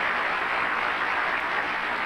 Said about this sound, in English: Come on, give the Lord a hand clap